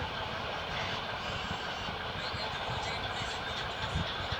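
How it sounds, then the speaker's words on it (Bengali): A train rumbles past nearby in a steady, loud roar of wheels and engine, with faint rhythmic clatter throughout. "একটা ট্রেন আসতেছে দেখেন ট্রেনটা কিভাবে আসতেছে"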